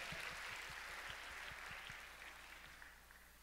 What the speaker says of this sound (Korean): 우리 구원해 주신 하나님께 한번 박수 한번 쳐드릴까요?